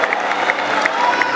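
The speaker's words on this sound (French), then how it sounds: "sous vos applaudissements" At the Miss Gosier 2016 beauty pageant, a crowd applauds and cheers loudly for the first runner-up, a short burst of clapping mixed with shouts and whoops.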